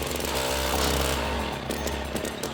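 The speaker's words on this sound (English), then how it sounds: "And then the auger begins acting up." An ice fishing auger's small engine runs rough and loud up close, a constant buzzing roar with wavering pitch as it struggles and sputters.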